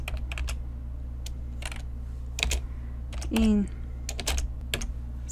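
Computer keyboard typing VBA code in Excel, heard as a close, steady patter of key clicks over a low hum, with someone speaking briefly partway through.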